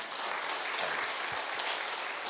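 Dense, steady applause from an audience at a lecture in Vijayawada, a continuous wash of clapping that holds at an even level throughout.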